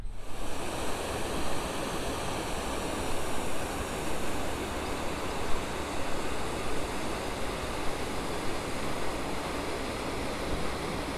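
Water rushes in a steady, dense roar, loud and unbroken throughout, pouring through an old sluice gate on a river near Witchampton, Dorset, with no voices.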